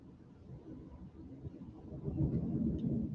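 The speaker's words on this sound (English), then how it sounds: "You'll have to let me know if you guys can hear the thunder." Distant thunder rolls as a faint, low rumble that swells and grows louder toward the end, with no clear voices over it.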